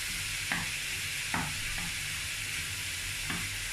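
Chopped onion sizzles and fries in a pan while being stirred, steady frying hiss with a few sharp scraping strokes of the spoon, close and alone with no voices.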